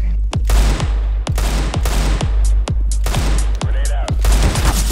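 Rapid bursts of gunfire from a CSGO match in a bomb-defusal round, about a dozen sharp shots spaced roughly a third of a second apart, each a loud broadband crack with a quick decay over a steady low rumble.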